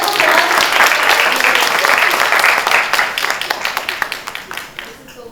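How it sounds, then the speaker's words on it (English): Audience at a session on podcasting welcomes a radio talk-show host with loud, dense applause that gradually thins into scattered individual claps. "can you please welcome her with a huge round of applause?"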